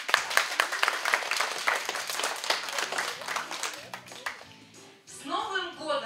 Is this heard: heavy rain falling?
no